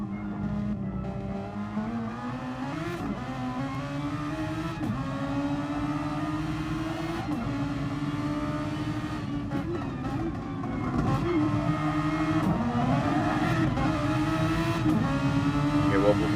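Race car engine heard from the in-car camera during a lap, a loud continuous drone whose pitch climbs and drops repeatedly through gear changes, with revving and a few sharp shifts, and no talk.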